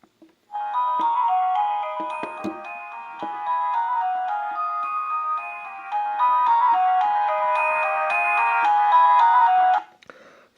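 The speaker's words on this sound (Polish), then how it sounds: "posłuchamy e, oryginalnych dźwięków tego telefonu" Original built-in polyphonic ringtone melody from a Sony Ericsson K510i mobile phone, a bright electronic tune with layered tones that plays steadily and clearly for about nine seconds, with no talking.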